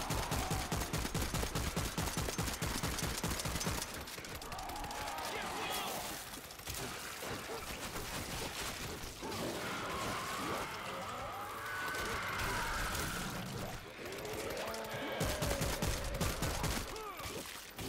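Bots fire guns in the zombie shooter World War Z: Aftermath, with rapid automatic bursts crackling at the start and returning later amid dense game noise, loud and continuous.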